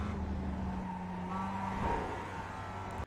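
A Mazda Miata's engine drones steadily in iRacing at Laguna Seca, holding a continuous tone with a slight swell near the middle as the car pivots into a corner and picks back up on throttle.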